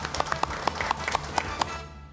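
A small audience applauds to close a monthly viewers' committee meeting at a broadcaster, with a few scattered, fairly faint claps spaced out over about two seconds.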